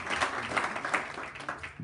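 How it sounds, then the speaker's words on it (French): Short burst of applause from a church congregation during a Sunday worship service, several people clapping in a loose, uneven rhythm at moderate distance, fading near the end. "on applaudit le Seigneur pour ça."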